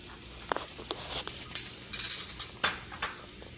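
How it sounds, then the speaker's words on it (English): Garlic cooks in a hot pan for stir-fried sweet potato leaves, giving a soft steady sizzle broken by scattered light clinks and scrapes of a utensil against the pan. "we're gonna saute the garlic"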